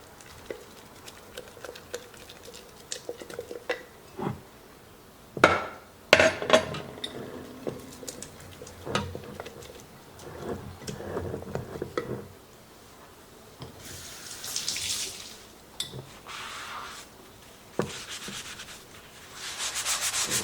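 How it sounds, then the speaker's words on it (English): A spoon stirs sourdough starter and scrapes it off the sides of a glass jar, giving intermittent close rubbing and scraping strokes with a few sharper clinks, fairly quiet and without talk. "So I'm going to scrape it off the sides just to kind of clean the jar up a little bit."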